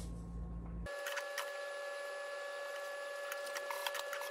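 A sewing machine stitching a small reinforcing square on a school backpack, running steadily as a close, continuous mechanical whir with fine rapid ticking, starting abruptly after a brief low hum.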